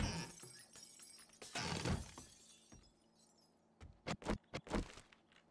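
Glass shatters repeatedly in the survival video game 7 Days to Die, a crashing burst followed by a series of sharp, short clinking breaks, moderately close with no voices.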